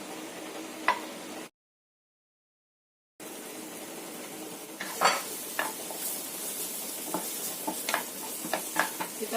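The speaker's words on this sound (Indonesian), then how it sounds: "Kita akan tumis dulu wortelnya supaya wortelnya itu matang." Carrots stir-frying in margarine in a nonstick pan over medium-low heat, a steady close sizzle broken by scattered scrapes and ticks of a utensil, after a short gap of silence.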